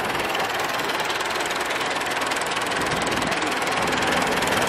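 A 265 tractor, modified with welded-on parts, runs its engine loudly and close, a dense, steady chugging rumble that never lets up.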